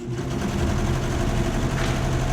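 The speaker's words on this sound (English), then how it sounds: "using my serger, I'm going to do a 1/2 inch seam allowance" A serger runs steadily, sewing a shoulder seam with a half-inch seam allowance on a boho babydoll garment, giving a continuous dense mechanical whir close by with no pauses and no voices.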